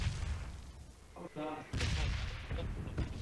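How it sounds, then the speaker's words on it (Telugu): A bomb blast in the PUBG Mobile Snow Ghillie Rush mode on the Vikendi map, a sudden loud boom with lingering rumble around the middle of the clip, set against game noise and players' voices. "బాంబు వేసాడు అవునా?"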